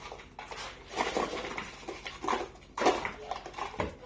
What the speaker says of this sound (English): you're going to take your baking soda and you're going to put it in your container